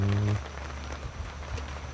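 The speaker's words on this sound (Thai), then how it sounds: "โอ้ฝนตกแล้ว" Steady rain falls in a broad, even hiss over an outdoor rural home setting, with a brief low hum or voice at the very start before the patter continues alone at moderate level.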